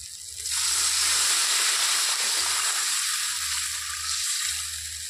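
Water poured into hot spiced oil for a hilsa fish curry sets off a sudden loud, steady hiss and sizzle that carries on for several seconds and eases slightly toward the end.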